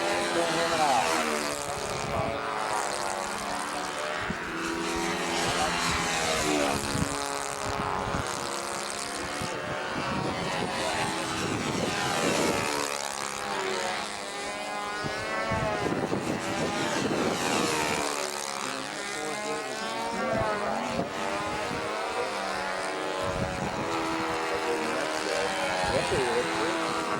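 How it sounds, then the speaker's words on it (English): A Saito 72 four-stroke engine runs in a super-detailed Bearcat model airplane, its propeller buzzing steadily and loudly throughout while people talk over it. "it's definitely got a 4-stroke"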